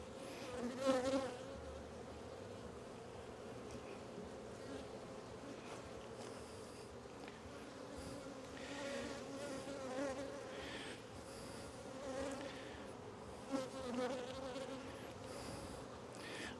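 Honeybees from a strong hive buzz steadily and close during its first spring inspection of 2026, a dense continuous drone with brief louder passes of individual bees.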